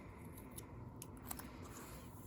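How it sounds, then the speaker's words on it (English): Quiet snips of scissors cutting crochet yarn, a few short, crisp cuts spaced out over a soft background hiss. "You take your scissors and you cut it."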